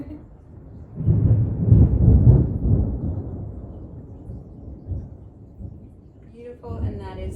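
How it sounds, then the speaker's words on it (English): A thunderstorm rumbles outside as a low, rolling swell of thunder that builds, peaks and slowly fades into a murmuring background, with a voice speaking briefly near the end. "Only this storm outside."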